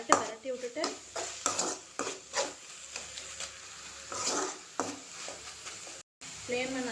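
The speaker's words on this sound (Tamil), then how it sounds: "ஒரு 2 பெரட்டி விட்டுட்டு" Tomatoes frying and being stirred in a pan for a vegetable gravy, a spoon scraping in repeated short strokes over a soft sizzle, with a voice talking intermittently.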